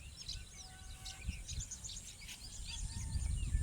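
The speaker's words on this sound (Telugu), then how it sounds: "మొత్తం పిట్టల సౌండ్, చిలుకల సౌండ్," Birds and parrots chirping and calling beside a pond in summer, scattered high chirps and whistles repeating over steady low outdoor rumble, moderately distant.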